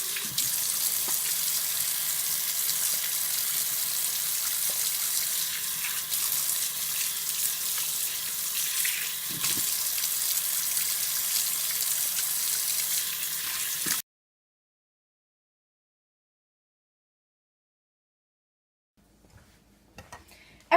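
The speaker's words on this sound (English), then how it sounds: "We're going to start off just with washing our hands because you need to do that before you start any type of cooking" Hands are washed under a running kitchen tap before cooking, a steady close rush of water splashing into a sink for about fourteen seconds, then it stops abruptly, leaving near silence with a faint stir at the very end.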